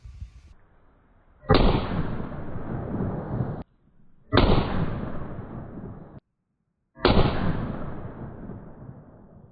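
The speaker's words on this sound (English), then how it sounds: "final 158 grain, 4 5/8 inch barrel, non-Magnum primer coming up" A pistol fires 158-grain loads through a 4 5/8-inch barrel with non-Magnum primers: three loud, sharp reports a few seconds apart, each trailing off in a brief echoing decay.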